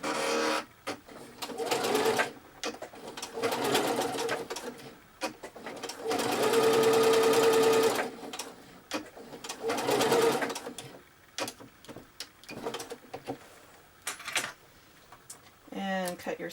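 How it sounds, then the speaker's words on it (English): A sewing machine stitching two pinned pillow pieces together, running in several bursts of steady whirring and rapid needle clatter with pauses between, moderately loud, with a person talking in between. "take the two sides that you pin together and sew them together"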